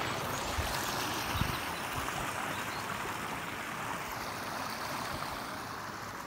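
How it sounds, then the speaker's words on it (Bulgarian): A small, fast mountain stream high in the mountains rushes steadily, a continuous close wash of flowing water with no voices. "Рекичката е малка спортна, на много високо място в планината."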